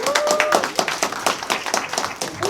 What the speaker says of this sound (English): Let's clap it up one more time